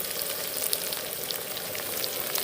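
Chopped ginger fries and sizzles in a pan while being stirred for a jackfruit chili dish, giving a steady, close hiss with small crackles throughout and no talk.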